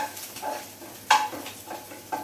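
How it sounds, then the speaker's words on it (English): Chicken and ginger stir-frying in a pan, a soft continuous sizzle with scattered clinks and scrapes of a utensil against the pan, including one sharper knock near the middle and another near the end. "So we'll quickly stir fry this."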